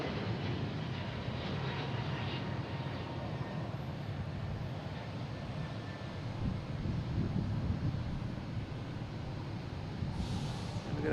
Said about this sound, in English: But it is an A321neo.